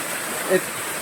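A mini waterfall at a picnic spot rushes in a steady, loud wash of water, with a brief tonal sound near the middle.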